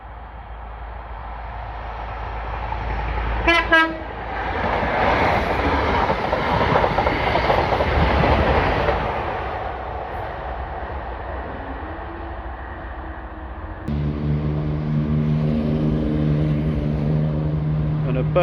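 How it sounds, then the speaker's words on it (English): A High Speed Train test train on Network Rail passing at Blythe Bridge on a warm evening, a rising roar and rumble as it runs by close, with a horn-like tone, then steady engine drone as it recedes. "we've come down here tonight to watch a high-speed train test train"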